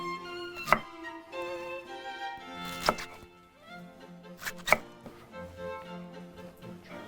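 Sharp knife chops of ramps land on a cutting board at irregular intervals, with a few louder thunks standing out among quieter handling sounds.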